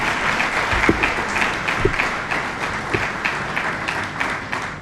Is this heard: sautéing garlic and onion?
no